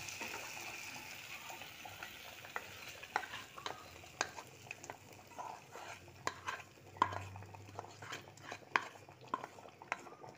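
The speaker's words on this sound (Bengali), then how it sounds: "কষিয়ে রাখা মশলাটিকে এবার খিচুড়ির ভিতরে দিয়ে দেবো।" Fried spice paste being stirred into Bengali khichuri in a pot, with scattered scraping and clinking strokes of a spoon over a soft, low sizzle, fairly quiet and unhurried.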